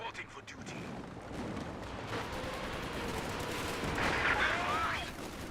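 Artillery barrage and gunfire in Company of Heroes 2 rumble steadily for several seconds and swell louder near the end, with speech-like game audio mixed into the battle din.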